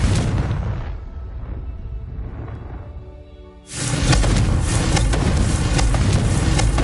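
Spell explosions from a fire spell in Hogwarts Legacy, loud booming blasts near the start, a quieter stretch, then a sudden loud dense burst of fiery rumble that sustains to the end.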